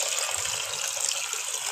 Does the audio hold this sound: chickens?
no